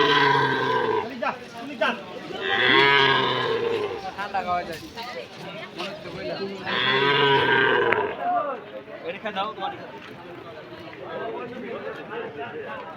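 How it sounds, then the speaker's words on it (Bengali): Cattle at a village livestock market selling Qurbani animals give two long, loud moos a few seconds apart, with crowd chatter and voices around them throughout. "আজকের হাটে গরুগুলো বিক্রি হয়নি ফেরত নিয়ে যাচ্ছে"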